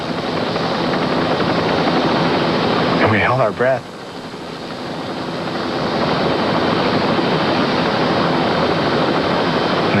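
A rescue helicopter at a waterfall, its rotor and engine making a steady loud wash throughout while a person speaks briefly over it.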